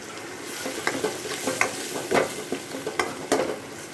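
Onion and cabbage being stir-fried in a pan for soya rice, with scraping spatula strokes and a steady sizzle under repeated sharp clinks and stirs, close and moderately loud, no talking.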